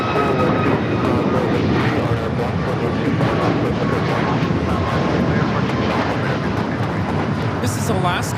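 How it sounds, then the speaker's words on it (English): Alaska Airlines Boeing 737 MAX 8 taking off at LAX for Guatemala City, a loud, steady broadband jet roar filling the whole stretch without letting up, with a voice talking faintly underneath. "1353 taking off to Guatemala City on the MAX 8"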